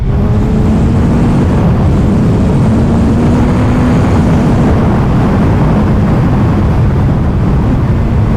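A Suzuki Hayabusa 25th Anniversary motorcycle engine roars loud and close, a dense, steady drone with a slowly rising tone and no speech.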